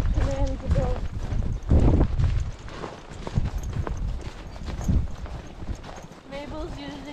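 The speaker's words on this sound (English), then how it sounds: "Horses walk away from the cart without my command to go." Horses' hooves clip-clop as they walk away from a cart outdoors, thudding steps fairly close amid wind noise, with people talking over them.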